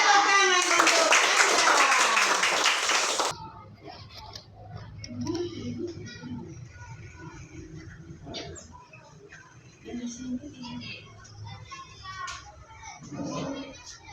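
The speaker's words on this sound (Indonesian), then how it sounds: "Tepuk tangan untuk Anjas" A primary school class claps for a student after he spins a top during a sixth-grade math lesson, a loud burst of group clapping at the start that stops abruptly, followed by quieter classroom voices and small noises.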